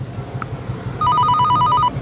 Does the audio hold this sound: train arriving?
no